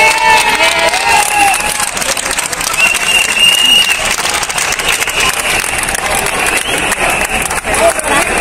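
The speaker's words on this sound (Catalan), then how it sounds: "Un aplaudiment pels que venen de fora a Barcelona també." Applause and cheering from a crowd of neighbourhood protesters at a street demonstration in Barcelona, sustained and dense for the whole stretch, with some voices mixed in.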